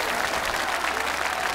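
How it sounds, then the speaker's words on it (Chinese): An audience at a Street Dance of China hip hop stage show applauds in a dense, steady wash of clapping, heard briefly and at moderate loudness with no voices over it. "所以我觉得我们应该来点掌声"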